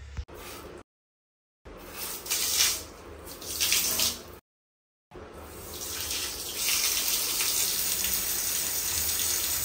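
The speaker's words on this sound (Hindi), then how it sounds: "अब चलिए पानी चालू करते हैं और आपको दिखाते हैं लीकेज है कि नहीं" Water runs steadily from a health faucet after repair, its hissing flow broken by two brief pauses before continuing strongly, loud and close with no talk.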